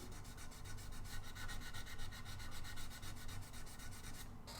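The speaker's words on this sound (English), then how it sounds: "And we're all sanding together" Several people sanding wood by hand while building a guitar, rhythmic back-and-forth rasping strokes in near unison, steady and close, with no talk.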